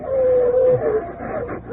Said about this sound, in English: Those dogs are going to get me.